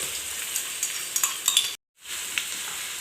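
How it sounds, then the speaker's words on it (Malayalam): Garlic, fenugreek, green chilli and curry leaves sizzle in hot oil while being stirred, a steady close crackle with light scraping ticks and a brief dropout near the end. "വെളുത്തുള്ളിയെല്ലാം നല്ലതുപോലെ മൂത്ത് വന്നിട്ടുണ്ട്"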